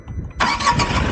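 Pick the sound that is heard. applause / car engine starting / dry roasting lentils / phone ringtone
car engine starting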